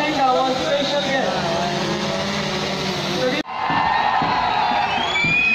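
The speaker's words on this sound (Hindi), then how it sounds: "तालियों की गड़गड़ाहट आपकी शायद कम है" A crowd cheers and whoops at the opening ceremony of an Asian school football championship in Agra, a loud, continuous roar of mixed voices that briefly dips near the middle and then swells again.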